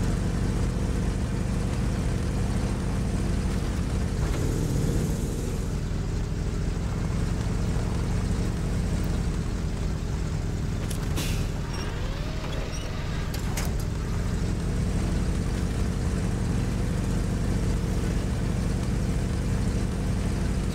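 A heavily loaded truck's engine in the SnowRunner off-road driving game, labouring steadily under strain as a continuous low droning rumble, loud and close, with no talk over it.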